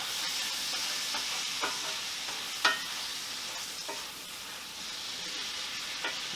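Chuck roast stew bubbles quietly in a pot while a spoon stirs through it, giving a soft steady hiss broken by occasional light knocks against the pot, fairly faint and close.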